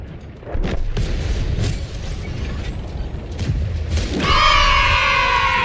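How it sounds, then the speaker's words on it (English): In the console version of World of Tanks, a C1 Ariete tank's main cannon fires with heavy booms and thuds amid battle noise, ending with a ringing mechanical tone; nobody speaks. "They're no match for me, cannon."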